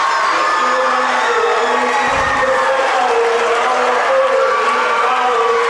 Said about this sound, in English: Listen to the crowd here tonight.